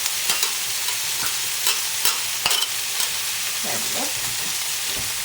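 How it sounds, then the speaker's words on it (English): Onions frying and caramelizing in a pan for sausage cornbread, a steady close sizzle broken by occasional stirring scrapes, with a brief spoken remark partway through. "Put the onions in and cook those down. And just let them caramelize."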